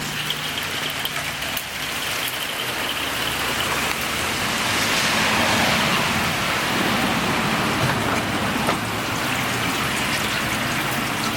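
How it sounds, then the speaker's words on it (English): Heavy rain pours down outdoors, a steady dense hiss of drops hitting surfaces throughout, with a faint engine-like rumble underneath and no voices. "It just started raining really hard."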